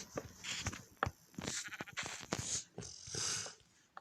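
Faint Minecraft-like sheep bleats repeat several times, mixed with soft clicks, thuds and light shuffling sounds at a low level.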